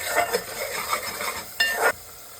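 A spoon scrapes and stirs through village-style fish curry as ground coriander and fenugreek powder are mixed in, with a few quick strokes and one louder scrape against the pot, over a faint sizzle.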